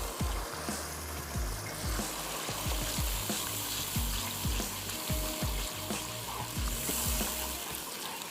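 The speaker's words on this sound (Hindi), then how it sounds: "अच्छा सा मीठा सा दही ऐड कीजिएगा, फ़ौरन से स्टर करेंगे" Yogurt stirred into a prawn masala karahi, a steady loud sizzle and crackle of hot oil with rhythmic scraping knocks of a spoon against the pan, close up and without talk.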